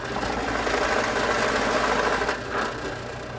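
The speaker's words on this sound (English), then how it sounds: "This is the tricky part right here, is getting this drilled to the right depth." A steady, loud machine drone with a faint rhythmic knock runs throughout as a drill bores a new drilling head for a bench-top pocket hole machine to depth, dipping briefly near the end, with no talking.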